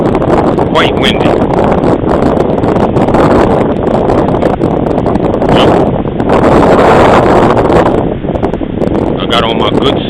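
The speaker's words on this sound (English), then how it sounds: "Quite windy." Strong wind gusts buffet the microphone at Venice Beach, a steady roaring rush with swells and lulls that runs nearly the whole time, loud and close. A person talks underneath.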